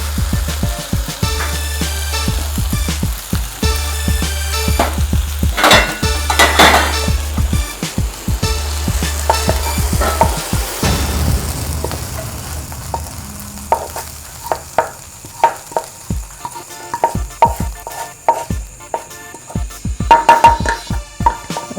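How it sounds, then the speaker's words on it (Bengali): A spatula scrapes cooked mutton korma ingredients out of a wok onto a plate, giving repeated close metallic scrapes and clinks with no talk, quieter spaced taps toward the end. "আর কড়াই থেকে এগুলোকে প্লেটে নামিয়ে নেব।"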